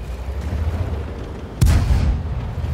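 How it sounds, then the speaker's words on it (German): A single booming tank cannon shot fires in World of Tanks, a sharp loud blast with a rumbling tail that rises out of steady engine and ambient noise. "Der Schuss ging in den Boden."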